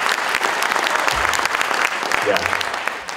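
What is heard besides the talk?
conference audience clapping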